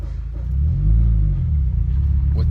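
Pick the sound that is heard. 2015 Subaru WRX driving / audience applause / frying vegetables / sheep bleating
2015 Subaru WRX driving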